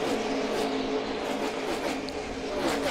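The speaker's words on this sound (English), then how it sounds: "when you can hear the engine and the throttle position, they're not out of the gas very much on these restarts" NASCAR Xfinity Series race cars at full throttle on a restart at Pocono, a continuous loud engine roar with a faint rising whine, the pack holding steady close by.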